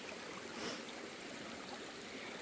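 Brook water flowing steadily on the Appalachian Trail near Holly Brook in Maine, a continuous close rushing and trickling wash with no other sounds.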